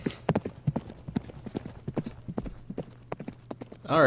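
Horse hooves clip-clop in a steady, fairly quick rhythm of distinct knocks for about four seconds, close and clear, with a brief higher-pitched burst at the very end.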